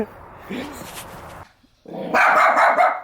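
A family dog barks in short bursts at a homecoming indoors, loud and close, with people talking before and around the barks.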